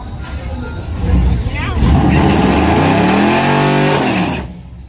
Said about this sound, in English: He done did him a burnout in that glue now.